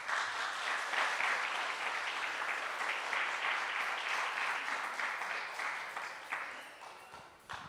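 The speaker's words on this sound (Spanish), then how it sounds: "Dale aplauso al que vive entonces." Church congregation clapping together during a service, a dense, even wash of applause heard at moderate distance that holds steady for several seconds before tapering off.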